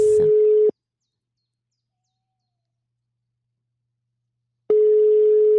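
Telephone ring tone heard during a live radio call-in: one long steady tone pulse at the start, a few seconds of silence, then the next tone begins, clear and alone.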